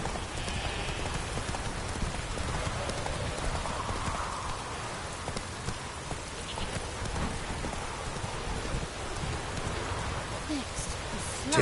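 Roach, Geralt's horse in The Witcher 3, gallops through rain, the hoofbeats muffled beneath a steady wash of rainfall on the ground that fills the whole stretch.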